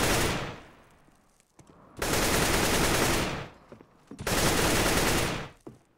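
Three long bursts of rapid automatic gunfire in a video game, loud and close, separated by short pauses of quieter background.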